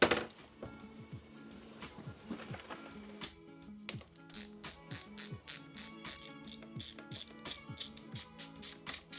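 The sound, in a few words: tightening motorcycle cover screws with a torque wrench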